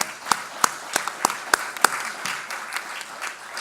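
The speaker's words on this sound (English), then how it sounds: "Let's give them another round of applause." An academic research day audience gives a short round of applause, heard as a handful of distinct, rhythmic claps up front that thin into a softer, scattered patter.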